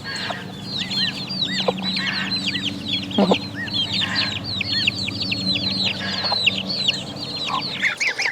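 Chickens cluck and chirp continuously outdoors while free-ranging outside their coop, many overlapping birds at close to moderate distance, steady and busy throughout with a low background hum.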